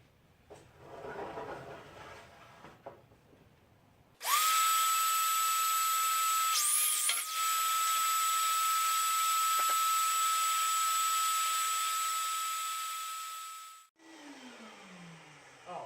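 A power saw spins up sharply and cuts through wood, a loud, steady high whine held for about ten seconds before it winds down, after quieter handling noises.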